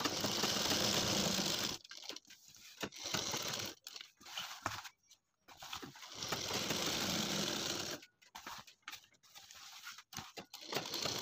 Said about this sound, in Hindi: यहाँ पर सिलाई लगा लेंगे।